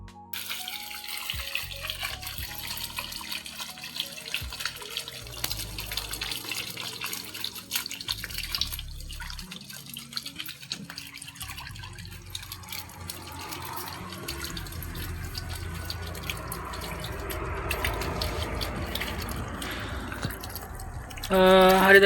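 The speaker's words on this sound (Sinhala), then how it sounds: "බෑග් එකෙන් 3න් එකක් වගේ වතුර පුරව ගන්න ඕන" Tap water runs and splashes into plastic bags being filled for packing live fish at a fish farm, a steady watery pour with drips throughout, briefly louder near the end.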